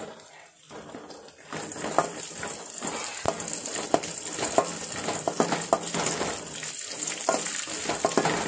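Cashews and raisins frying in a pan for semiya kesari, a busy crackling sizzle with sharp pops and stirring clatter, fairly close and continuous after a quiet start.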